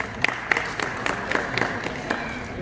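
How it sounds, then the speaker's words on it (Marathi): An audience at a school education council event breaks into applause, with scattered, uneven claps that carry on steadily at a moderate distance. "या सर्वांचं एकदा जोरदार आपण टाळ्या वाजवून स्वागत करूया."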